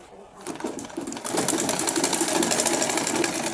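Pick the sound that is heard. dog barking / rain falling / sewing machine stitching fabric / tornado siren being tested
sewing machine stitching fabric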